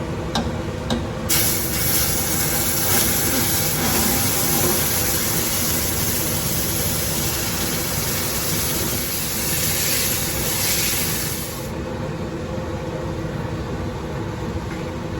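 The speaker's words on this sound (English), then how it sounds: "when you mix the water, just move back from the pan because it's going to splash and create a lot of steam" A steady, loud hiss of water sizzling and steaming in a hot pan on high heat while making kada prasad runs throughout, with a sharp splash at the start and no voices.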